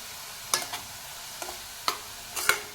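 A spatula scrapes a pan of onions mixed with ginger-garlic paste, coriander-cumin powder, turmeric, chili and salt for paratha filling: four or five short, sharp stirring strokes spaced apart over a quiet, faint sizzle.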